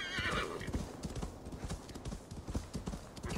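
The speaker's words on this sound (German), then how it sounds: "Oh, Pony, beruhig dich." A horse in Assassin's Creed Valhalla gives a short whinny at the start, then its hooves clip-clop in a quick, uneven rhythm, fairly faint and close, with no one talking over it.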